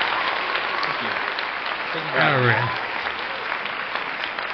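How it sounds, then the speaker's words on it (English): Canned studio audience applause fired from a button: a steady wash of clapping and crowd noise through the whole stretch, with someone briefly speaking over it partway through. "The capture studio audience that you don't see, but they were there and clapping when I push this button."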